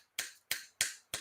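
Four crisp finger snaps, close and clear, evenly spaced about a third of a second apart with short silences between.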